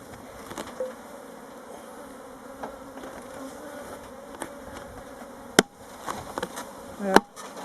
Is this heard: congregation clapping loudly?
no